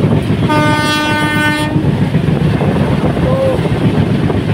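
A train at New Jalpaiguri station, loud and close, with a long horn blast over steady rumbling wheels and track noise.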